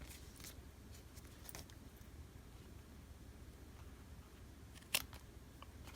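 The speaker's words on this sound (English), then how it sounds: "I'm just going to take my scissors and trim off the extra" Quiet, intermittent snips of scissors cutting through fabric, a few soft clicks scattered over a low background hum.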